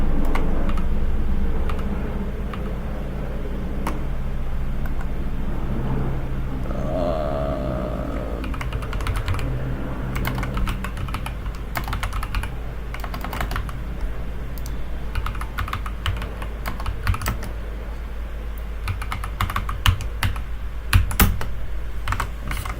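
Fingers tap on a computer keyboard while entering a login password, a steady run of close, light clicks and ticks over a constant low electrical hum, growing busier toward the end.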